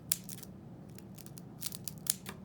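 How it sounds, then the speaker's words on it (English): Scissors snip through lavender stems in quick close-up bursts, several sharp cuts clustered in two groups with brief pauses between, quiet and without talk. "if this needs cutting, you can just cut any piece you want"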